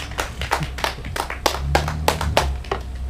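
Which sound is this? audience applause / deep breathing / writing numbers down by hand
audience applause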